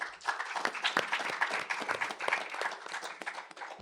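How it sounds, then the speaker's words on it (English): Panel audience at the CNSI Nano Day event applauding a moderator, a short burst of scattered clapping from a modest crowd in a room, close and fairly even before it fades. "So please give Mike Lowe a nice applause."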